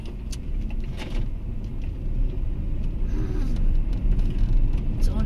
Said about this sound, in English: Oh, the car is coming, so my silence is disturbed.